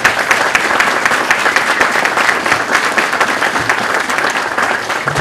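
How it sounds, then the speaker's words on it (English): Loud, sustained crowd applause at an outdoor monument dedication, many hands clapping densely and evenly from start to finish, close and full with no talking over it. "I want to give the committee a great round of applause"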